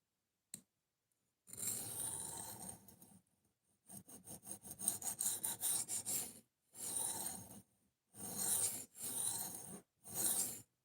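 A knife edge is being reprofiled on an abrasive in rhythmic bursts of scraping, some steady strokes and some rapid short passes, separated by brief pauses, close and fairly quiet.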